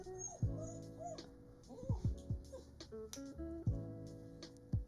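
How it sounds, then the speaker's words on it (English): A dog being dog-sat whines and whimpers indoors in a string of high, wavering cries with short pauses between them, close by, while a person speaks briefly in the background. "I am dog sitting right now, and she is whining, so I apologize for that."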